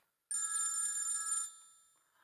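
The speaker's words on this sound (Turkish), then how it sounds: "telefonu çalıyor" A telephone bell rings indoors in a Turkish TV comedy scene, a single bright ring of about a second that cuts off and fades, close and clear with no talking over it.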